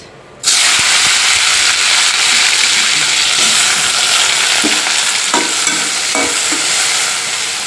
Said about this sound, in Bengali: তেলের মধ্যে দিয়ে দেবো চিংড়ি মাছ